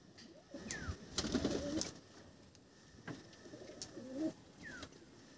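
Low, rolling coos from desi pigeons in a loft come in two bursts a few seconds apart. They sound quiet and a little distant, with scattered clicks and rustling around them.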